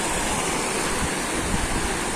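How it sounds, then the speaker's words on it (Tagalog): Strong sea waves along the coast of General Nakar, Quezon, wash in a steady, churning surge of surf close by, a brief unbroken roar without talk. "Lumakas ngayon ang alon."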